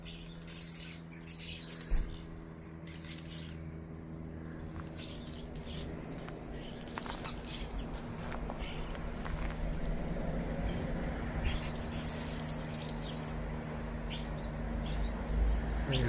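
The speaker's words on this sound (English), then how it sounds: "The starlings are squabbling over the food." Starlings squabble over food near a greenhouse in cold weather, with bursts of harsh chirps and chatter scattered through the clip over a low, constant background hum.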